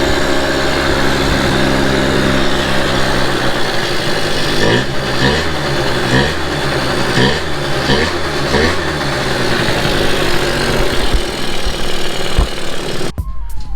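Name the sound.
Yamaha Zuma 50F scooter two-stroke swapped engine running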